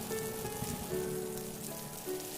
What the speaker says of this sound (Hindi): तभी बारिश और बढ़ जाती है।